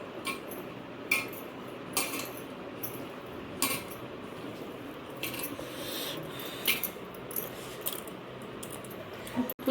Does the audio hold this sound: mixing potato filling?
yes